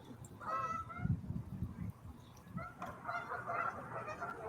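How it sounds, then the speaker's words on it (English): Geese honking repeatedly outdoors, moderately distant, their calls overlapping amid low background noise. "Yeah, you can hear the geese."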